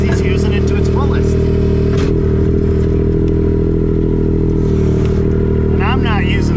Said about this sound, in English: That soft, gentle hum. This machine is idling at this point.